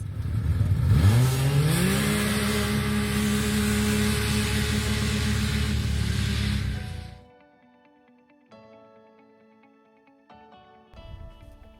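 A Wildcat XX side-by-side revs hard and accelerates loudly in a race, engine pitch climbing and holding steady for about seven seconds before cutting off, leaving faint mechanical clatter and distant noise.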